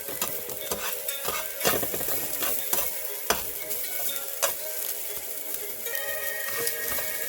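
Corn, rice and vegetables sizzle steadily in hot oil in a home pan on low heat, a close, continuous hiss broken by a few scraping stirs and light utensil knocks.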